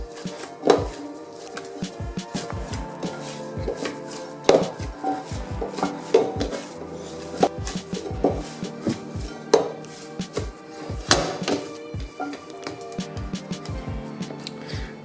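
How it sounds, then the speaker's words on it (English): Pizza dough for a homemade Italian-style pizza is kneaded by hand on a work surface for a minute or two, producing irregular, fairly loud thumps and slaps at a steady working pace, with no talking. "it's time to knead this dough a little bit"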